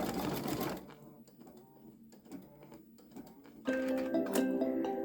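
A Babylock Solaris embroidery machine stitching a placement mark on an edge-to-edge bag project, rapid mechanical needle clatter at the start, then quieter ticks and whirs before a brighter buzzing run of stitches.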